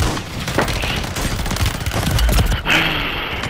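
Rapid, dense shotgun and gunfire bursts boom loudly in a shooter game, a continuous barrage of close, heavy shots over several seconds.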